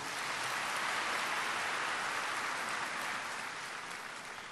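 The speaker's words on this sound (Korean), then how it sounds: "여러분 다시 한번 큰 박수 부탁드리겠습니다" An audience at Kyung Hee University's medical institutions vision ceremony gives a large, even roar of applause that stays steady and then begins to fade near the end.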